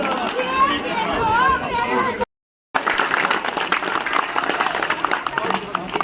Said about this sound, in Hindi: आप तमाम लोग तालियों से इस्तेकबाल करें, जोरदार तालियों से।